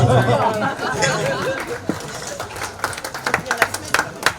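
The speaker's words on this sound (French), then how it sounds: "Applaudissez, applaudissez." A crowd at a twin-city anniversary outing claps, scattered and close at first, then settling into sharper, uneven bursts of clapping mixed with steady chatter throughout.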